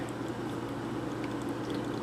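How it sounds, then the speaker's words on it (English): A steady, continuous pour of vinegar, salt and water brine into pickle jars, a soft even splashing wash with no pauses and no voices. "we're just adding the vinegar, salt, and water mixture"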